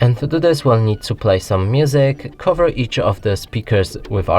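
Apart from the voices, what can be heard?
No everyday noises stand out.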